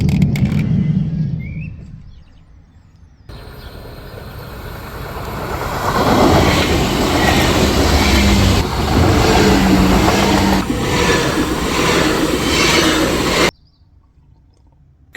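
A train rushes past nearby with a loud, sustained rumble and rattle that swells, holds, then cuts off, with faint bird chirps before it.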